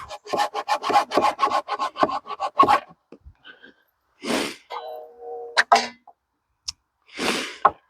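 A crosscut hand saw cuts through a wooden rafter in a quick run of rhythmic rasping strokes, close and fairly loud. Scattered scrapes and knocks follow.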